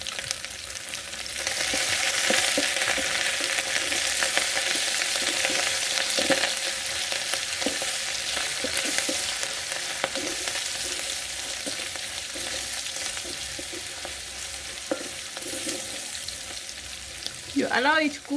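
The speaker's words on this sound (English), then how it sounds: "our onions are cooking well. Let's add the ginger and garlic paste." Onions frying with ginger and garlic paste in a pot for Kenyan beef pilau, a steady close sizzle throughout with occasional stirring scrapes and a brief clatter near the end, no talking.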